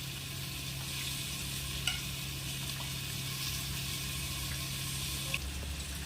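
Potatoes fry in a pan with a soft, steady sizzle and low background hum, quiet and even, broken by an occasional faint clink of a utensil.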